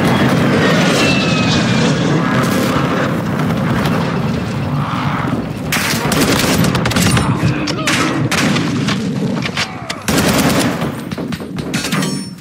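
An enemy aircraft roars overhead during an airstrike in Call of Duty: Modern Warfare 2, its engine drone mixed with sustained machine-gun fire and battlefield clatter, loud and dense throughout.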